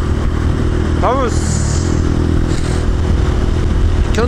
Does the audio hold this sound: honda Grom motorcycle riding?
yes